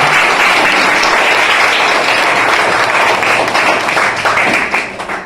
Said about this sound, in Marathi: साहेबांसाठी पण टाळ्या दोन्ही हाताने वाजवा